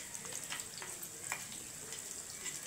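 Bitter gourd and onion paste fry in plenty of oil while being stirred, a steady sizzle broken by scraping stir strokes, close and moderately loud.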